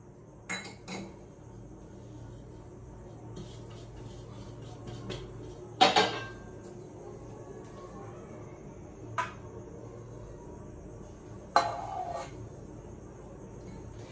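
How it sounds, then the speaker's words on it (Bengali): Chicken mixed with spices and oil in a bowl, heard as quiet handling under a low background with several sharp metallic clinks and clatters of utensils against the bowl spread across the clip. "সবকিছু একসাথে মিশিয়ে আমি ম্যারিনেট করে কিছু সময় রেখে দেবো"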